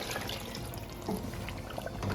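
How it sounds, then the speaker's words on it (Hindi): Broth water pours into a pot of potato and meat curry (aloo gosht), a steady close splashing and trickling stream with small gurgles, continuing throughout without any talking. "तो अब मैं इसके अंदर लगाने जा रही हूँ पानी, यानी कि शोरबे का पानी जितना मुझे चाहिए"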